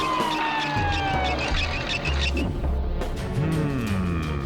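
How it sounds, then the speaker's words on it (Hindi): An ambulance siren wails with a sliding tone over a busy, noisy street scene, with low rumbling and a faint rising-and-falling tone later; no speech. "एम्बुलेंस, फौरन आओ।"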